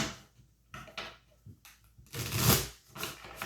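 Tarot cards being shuffled by hand in several bursts of riffling and rustling, close and fairly loud, with brief pauses between.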